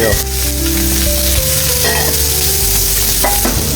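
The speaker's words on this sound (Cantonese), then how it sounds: "首先爆香料頭" Aromatics and chili peppers stir-frying in a wok for a Cantonese home-style bell pepper and chicken thigh dish, with a loud, steady sizzle and scraping stirs throughout, no talking.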